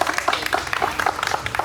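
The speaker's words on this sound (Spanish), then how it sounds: "Pido un fuerte aplauso para todas las niñas que bailaron en esta mañana" A morning audience gives a round of applause for girls who performed a dance, a dense flurry of close hand claps lasting under two seconds.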